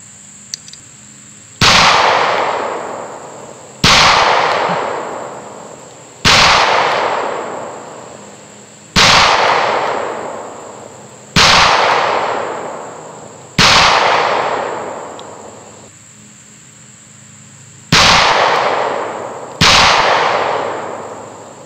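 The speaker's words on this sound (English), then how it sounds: "going to shoot the Beretta Nano 9mm" Beretta Nano 9mm pistol fired on a range, eight loud sharp shots spaced roughly two to three seconds apart, each followed by a long echoing decay, with a pause before the last two.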